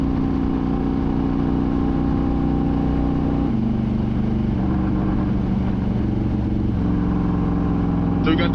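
Steady, loud engine drone of a Harley-Davidson Road King motorcycle on the road, running on fuel that sat in the tank for weeks, with low harmonic hum and wind rush throughout and a gear or speed shift midway.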